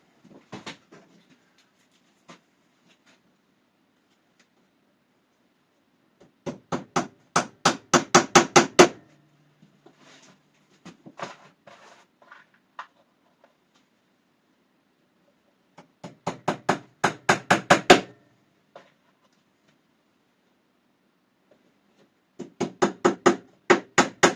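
Small flathead panel pins, 1.2 by 20 mm, are hammered into wooden beehive frame bottom bars in fast bursts of sharp, close taps that build in force within each burst, separated by quiet pauses and a few light knocks.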